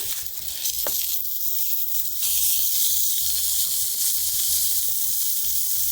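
Baby eggplant frying in hot oil in a pan, a loud continuous hiss and sizzle that holds steady throughout and grows slightly stronger partway through.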